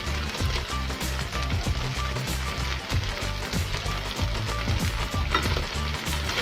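Masala frying and sizzling in a pan over low flame with chili and salt just added, a steady loud crackle with stirring scrapes throughout and no talk.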